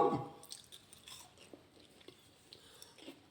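Close-up crunching and biting of a crisp snack, a few sharp bites followed by softer chewing, with no talking.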